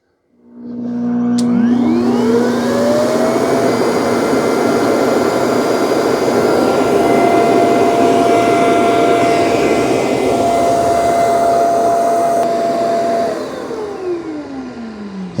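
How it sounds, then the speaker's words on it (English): A Eufy C28 robot vacuum and mop spins up its brush rollers into a loud, steady whirring drone with a rising motor whine. The whine holds for about eleven seconds, then winds down, heard up close with no talking. "the vacuum brush rollers, you can hear they're being spun"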